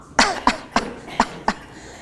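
Five short coughs in a quick, evenly spaced series, close and fairly sharp, each a brief burst with quiet in between.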